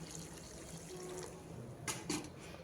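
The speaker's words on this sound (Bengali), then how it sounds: "এবার দিয়ে দিচ্ছি ঝোলের জন্য গরম জল।" Hot water poured into a pot of cooking chana dal with squash, a close, steady splashing gush with a brief louder burst near the end.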